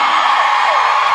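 A live theater audience screams and whoops together, a loud, dense wall of high shouting that holds steady from start to finish without pause.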